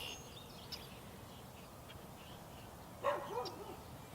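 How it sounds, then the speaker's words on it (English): A dog barks in the distance across a city park, a brief faint pair of barks late in the clip over a low ambient outdoor hum. "we do have a dog barking in the background who's getting in my video as much as he possibly can"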